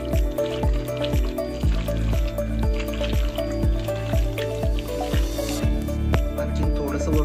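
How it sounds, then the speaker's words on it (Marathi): Chicken pieces being mixed by hand with spice masala for a marinade in a home kitchen, giving soft wet squishing and slapping sounds in a steady repeated rhythm, close by. "आता या सगळ्या मिश्रणाला आपण मॅरिनेट करून घेऊया, करून सगळीकडे मसाला व्यवस्थित लागेल."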